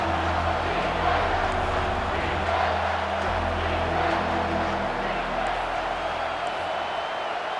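A steady stadium crowd roars in College Football 25 during Alabama at Tennessee, a dense continuous wash of cheering and murmur that holds at an even level with no clear breaks.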